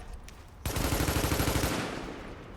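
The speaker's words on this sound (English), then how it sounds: "If you shoot the ACRE, your weapon will recoil up in the air" ACRE rifle fired in a video game: a loud, rapid automatic burst of close shots lasting about a second, then a decaying tail.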